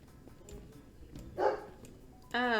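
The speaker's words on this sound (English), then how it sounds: "Ah, so many loud dogs in my home." A dog barks in the Ace Attorney Investigations game: a soft yip midway, then a louder sharp bark at the end, over quiet background ambience.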